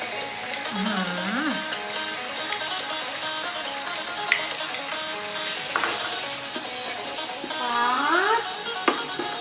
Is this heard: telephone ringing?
no